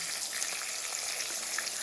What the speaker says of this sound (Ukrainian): На розігріту пательню даю трішки олії і викладаю сюди м'ясо. Накриваю кришкою і з обох сторін просмажую до готовності.